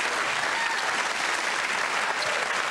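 A 1994 television studio audience bursts into applause as a guest is introduced, a dense, even roar of many hands clapping that holds steady throughout with no voices over it.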